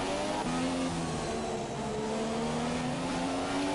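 McLaren race car engine in a racing video game, a sustained high-pitched whine with rising and shifting tones as it accelerates through the gears, steady and fairly loud with no talk.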